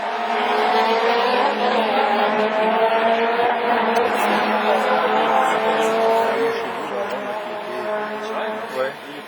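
A rallycross race car pulling away on a division 4 course, its engine a loud sustained drone that fades slightly as it departs, with a commentator talking over it.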